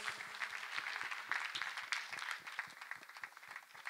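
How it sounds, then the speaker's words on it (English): A church congregation claps for Jesus during a deliverance service, a dense, steady round of applause that swells slightly midway and holds throughout without speech. "Clap for Master Jesus."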